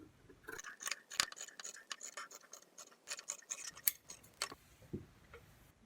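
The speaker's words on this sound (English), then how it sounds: "I'm just going to trim my shirt straight across under the sleeves." Scissors snipping across a cotton shirt under the sleeves for a drawstring bag: a run of quick, crisp, close-up cuts in an irregular rhythm, with small metallic clicks between them and no one talking.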